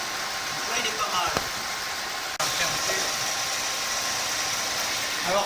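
Warmed-up car engine idling steadily and close by with a constant mid-range hum, a brief dropout partway through, while an air leak fault is being traced.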